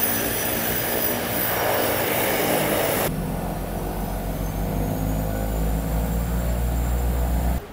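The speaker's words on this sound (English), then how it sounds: "that sound is the seaplane that's ready to pick us up and take us where" Seaplane engine running at an airport dock in the Maldives, a loud steady drone holding throughout, its character shifting partway as the pitch and tone settle lower.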